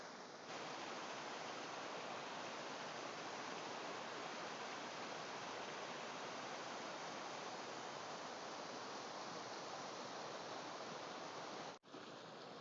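A river rushes steadily through Wasdale in the Lake District, swollen after recent rain, a constant broadband roar of flowing water heard close by with no talk, briefly dipping near the end.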